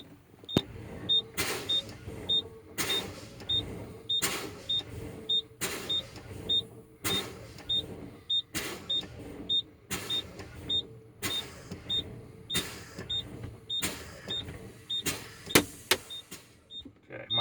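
Truck air brakes fanned repeatedly during a pre-trip check until the valves pop, a regular series of sharp pneumatic hisses and releases roughly every second, close inside the cab with a faint electronic beep between.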